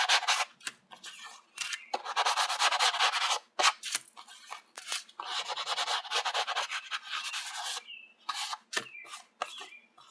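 Sandpaper rubs over the paper edges of a junk journal pocket in repeated scratchy strokes, some long and some short, close and fairly loud, with brief pauses between passes.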